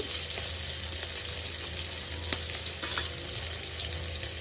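Chopped green chilies and garlic fry in a pan with a constant close sizzle and soft bubbling crackle, a few light stirring taps over the top.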